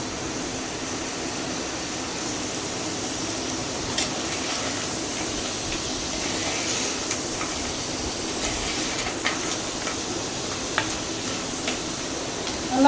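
Crab pieces sauté in a pan for crab gravy, a constant broad hiss of frying with occasional faint clicks of stirring, steady and close, no voices.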